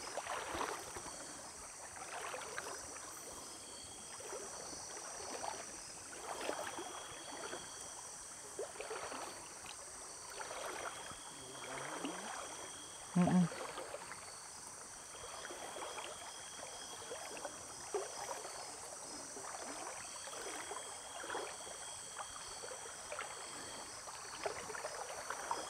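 River water flows steadily with a soft, continuous rush and trickle during a fishing outing, as someone climbs down into the river; a brief knock sounds about halfway through.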